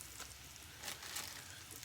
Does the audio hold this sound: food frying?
yes